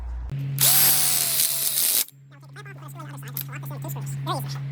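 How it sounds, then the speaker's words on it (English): A power drill drives screws into the framing of a DIY outdoor kitchen build. It gives one loud, close whirring burst of about a second and a half, followed by someone talking over a low steady hum. "Now we can screw it in."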